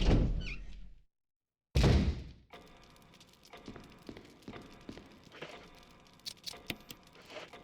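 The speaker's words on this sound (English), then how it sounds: "I hear a zombie wanting to come through." Heavy thuds of a zombie banging against a door inside a mansion in a horror video game: two loud, close blows in the first two seconds, followed by quieter scattered knocks and rattles.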